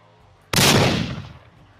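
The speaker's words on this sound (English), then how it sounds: "This high-octane gunfight and chase goes on for a while" Gunfire bursts out in a film's high-octane gunfight scene: a sudden, loud, dense blast of shots that erupts after a quiet start and then slowly decays, with no talking over it.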